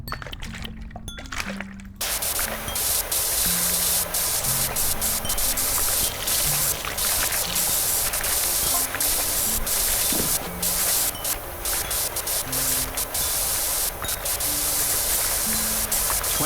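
Pressure washer spraying continuously in PowerWash Simulator, a loud, dense, unbroken hiss of water jet lasting many seconds after a brief quieter start, with faint tonal game sounds beneath.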